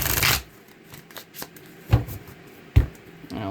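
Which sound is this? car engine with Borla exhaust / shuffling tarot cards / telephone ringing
shuffling tarot cards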